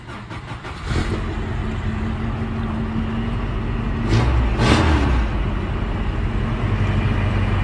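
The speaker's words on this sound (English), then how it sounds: "Truck runs amazing. You can definitely tell it's got a new motor, a little more power." A Toyota truck's newly built 22RE engine idles and revs up nearby, rising to a louder burst midway before settling back to a steady run.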